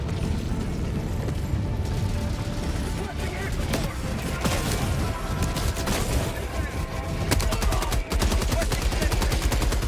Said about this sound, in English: Dude just dropped an orbital barrage right onto my gas mine field.